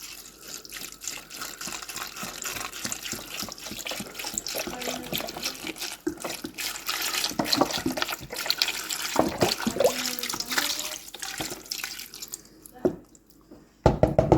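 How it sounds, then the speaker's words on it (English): Broth poured into a beef soup pot filled with carrot, celery, onion, turnip, cilantro, parsley, beef and marrow bones, giving a steady close splashing pour that runs for most of the time, then stops with a few brief drips and clatters near the end. "now we're adding our broth"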